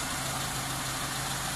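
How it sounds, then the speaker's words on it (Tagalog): A Mitsubishi 4G13 engine with a piston-type carburetor idles steadily at around 750 RPM, a continuous even hum with low rumble, close and unbroken. "umaandar na yung ating makina"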